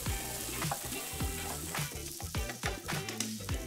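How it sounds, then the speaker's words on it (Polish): Steady, close sizzling of onion and oyster mushrooms frying in a pan, with occasional stirring scrapes and crackles throughout. "Cebula z boczniakami musi teraz chwilę się podsmażyć."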